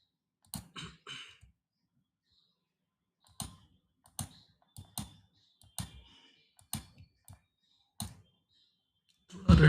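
Computer mouse clicks during work in 3ds Max, about a dozen sharp close clicks, some in quick pairs like double-clicks, spaced by silent gaps.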